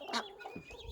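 A broody hen that has been sitting on eggs gives a short burst of clucking, close by and fairly soft, with one sharper cluck at the start and quieter throaty notes after it.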